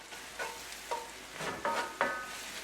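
Curry lobster and shrimp tossed in a hot pot over medium-high heat: a quiet sizzle with about five brief scraping stirs spaced roughly half a second apart.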